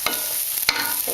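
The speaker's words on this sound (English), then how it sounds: "So I'm frying half an onion in 2 tablespoons of olive oil" Half an onion frying in two tablespoons of olive oil in a pan, a soft steady sizzle with a couple of brief stirring clatters, close and moderately loud with no talking.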